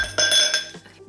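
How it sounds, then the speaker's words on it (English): Four ice cubes clink into a glass for a lavender lemon cocktail, a few bright close knocks in quick succession, followed by quieter settling. "we are going to add ice cubes first. So I'm gonna do 4 ice cubes."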